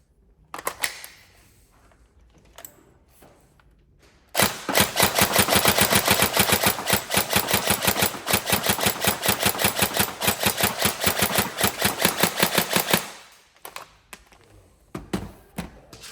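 A Tokyo Marui G36K airsoft gun, fitted with a Gate Aster V3 and a Deans connector, fires one long full-auto burst of about nine seconds: rapid, even, loud mechanical clatter, with short clicks and handling noise before and after.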